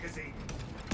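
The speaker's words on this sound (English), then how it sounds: "Changing magazine" Quick magazine swap on a gun in a Warhammer 40K shooter, a brief series of soft mechanical clicks and a sharp final clack, close and over faint background noise.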